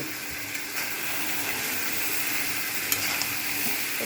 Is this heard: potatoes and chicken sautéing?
yes